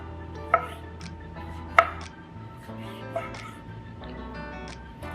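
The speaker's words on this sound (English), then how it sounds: "let us focus on cutting our kumquats" Knife chopping kumquats on a cutting board, three distinct sharp cuts spaced about a second apart over a low background hum.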